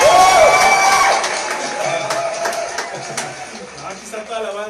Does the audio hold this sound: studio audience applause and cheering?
yes